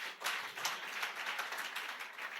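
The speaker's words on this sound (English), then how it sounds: "Please, a round of applause." An audience at a youth concert and launch event claps in a round of applause, a continuous patter of many hands, moderately distant and fairly quiet, with no talk.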